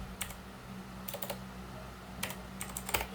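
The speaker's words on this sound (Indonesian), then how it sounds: "Kita buktikan dengan cara mengetik" Someone types on a computer keyboard in short bursts of quick clicking keystrokes separated by pauses, close and fairly quiet against a low steady hum.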